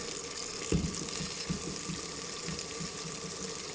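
Water is poured into a cooking pot of masala while making an ojri (tripe) curry, giving a steady splashing gush at moderate level with a few soft knocks near the start.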